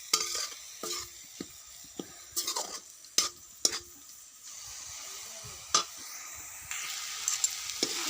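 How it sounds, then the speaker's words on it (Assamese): Semolina roasting dry in a pan for coconut laddu, heard as intermittent scraping and knocking of a spoon stirring against the metal, with soft rustling between strokes, close by and with no talking. "চুজিখিনি মই ভাজি ল'লোঁ"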